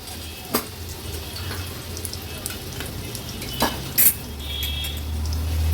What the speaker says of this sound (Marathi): वाटण तेलावर थोडंसं परतून घ्यायचंय